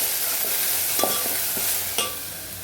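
Fish fried in a pan for a Telugu-style fish curry, giving a steady close sizzle with a few sharp clinks of stirring, no voices.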